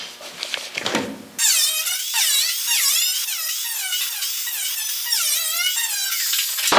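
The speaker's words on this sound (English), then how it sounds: "So let me cut a square hole out and then we'll start forming this." A tool cuts a square hole in the sheet-metal body of a 1974 Dodge Charger, giving a loud, continuous, wavering high screech that runs almost unbroken after a brief lead-in of clatter.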